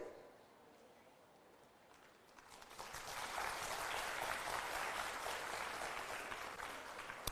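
Audience applause after a talk at a scientific event, quiet at first and then swelling into sustained clapping that continues to the end.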